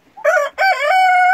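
Close, loud rooster crowing from meat-breed chickens in a hot greenhouse, two strong drawn-out crows with a brief break between them.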